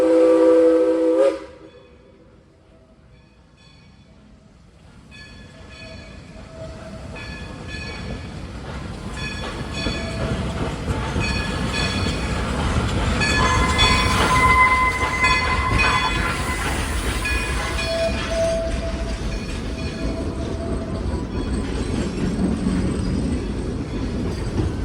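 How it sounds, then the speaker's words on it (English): Dollywood Express steam locomotive number 192 returns from a test run, opening with a short whistle blast, then a rising, sustained rumble of rolling wheels and cars passing close, with brief whistle tones and squeals along the way. "Locomotive number 192 returns from the test run."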